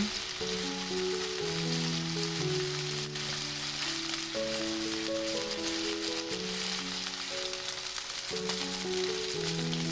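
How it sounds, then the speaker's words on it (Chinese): Chicken wings pan-fry over low heat with scallion and ginger for cola chicken wings, giving a steady, continuous sizzle that runs the whole time beneath background music. "用小火煎至两面金黄"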